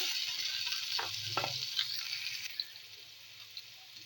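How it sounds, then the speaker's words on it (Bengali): Whole garam masala, green chillies and onion paste fry in hot oil for an egg paneer curry, giving a soft continuous sizzle with a few faint clinks and stirring scrapes. "এবার ফোড়নে দিচ্ছি গোটা গরম মশলা দিয়ে দিলাম কাঁচা লঙ্কা দিয়ে দিচ্ছি পেঁয়াজ বাটা"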